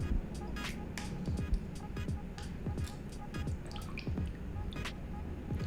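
Pieces of chicken are dipped into water while being prepared for frying, with wet drips, squishes and small splashes close up, soft and intermittent, and quiet talk in the background.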